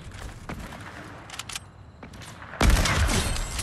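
Gunshots in a video game: a few faint sharp reports early on, then a sudden loud blast of dense noise that holds until the end.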